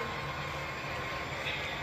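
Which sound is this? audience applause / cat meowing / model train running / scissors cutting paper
model train running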